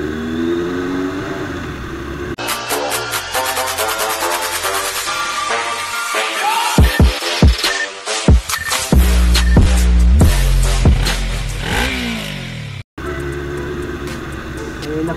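Busy road traffic in Taytay, Rizal, with cars and motorcycles heard from a riding motorcycle, engines revving and passing close by in loud, shifting bursts with a brief cut near the end.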